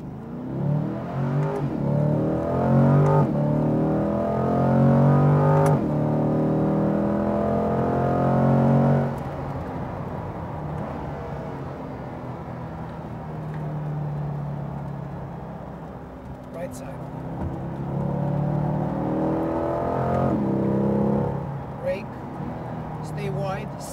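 A Chevrolet Corvette C8 lapping the Speed Vegas race track, its engine note rising and falling through repeated accelerations and shifts, steady and prominent, with people talking over it.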